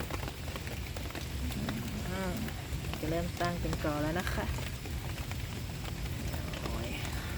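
Rain falls steadily on a garden of colorful caladium plants, a dense constant patter filling the whole stretch while someone talks over it.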